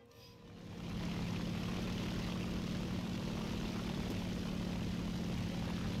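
Propeller aircraft engine droning in the combat flight game War Thunder, a steady loud hum with a throbbing low rumble that swells up within the first second and then holds constant.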